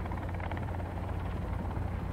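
Helicopter in the survival video game Sons of the Forest, a loud steady rotor drone with dense low-frequency rumble held continuously throughout, with no talking over it.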